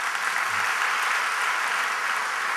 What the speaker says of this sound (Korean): 우리 그분께 박수를 드릴까요?